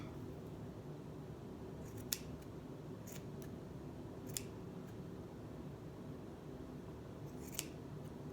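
Scissors snip at a yarn pom pom, a few sharp isolated clicks spaced over several seconds, quiet and close against a low background hum.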